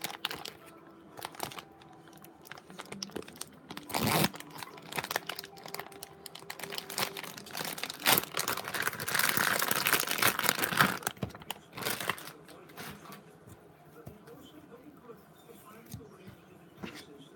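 Dried salami being cut into quarters on a board for pasta salad, with irregular crinkly knife clicks and crunches close by, some louder thumps, and a denser scraping stretch midway.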